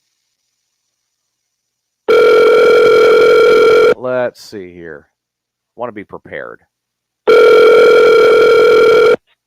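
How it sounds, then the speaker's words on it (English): A telephone rings out on an outgoing call, with two long, loud ringback tones separated by a few seconds of someone speaking nearby. "But let's see if he can actually answer the phone."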